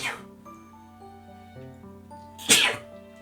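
A single sharp sneeze bursts out close and loud near the end, over soft background music and other quiet sounds.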